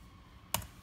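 A single sharp, close click of a calculator key being pressed while entering numbers, standing alone against a quiet room.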